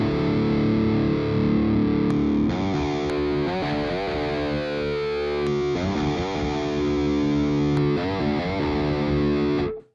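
An electric guitar plays heavily distorted chords and riffs through an ENGL Ironball E606 amp, with loud sustained chugs and short breaks between phrases before it cuts off at the end.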